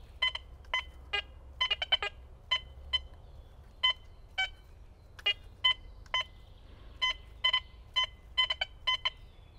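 Quest X10 metal detector sounding repeated short electronic beeps over a buried target, in clustered irregular bursts of near, fairly loud tones with quiet gaps.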